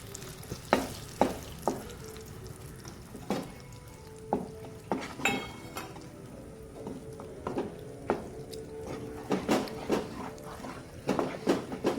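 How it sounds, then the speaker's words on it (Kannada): Jackfruit paste frying in ghee in a pan over a low gas flame, a soft steady sizzle broken by repeated clinks and scrapes of a spoon stirring against the pan. "ಇವಾಗ ಹಲಸಿನ ಪೇಸ್ಟನ್ನು ಕೂಡ ಇದಕ್ಕೆ ಹಾಕುವ. ನೋಡಿ, ಇದನ್ನು ಕೂಡ ತುಪ್ಪದಲ್ಲಿ ಫ್ರೈ ಮಾಡುವ."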